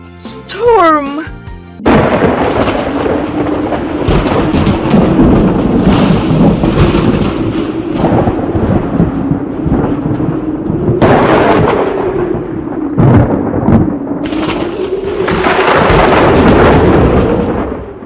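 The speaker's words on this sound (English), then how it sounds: "It seems that the storm is coming." A thunderstorm rolls in with deep, booming thunder and a constant rain-like wash, rising in several loud surges while a voice talks over it.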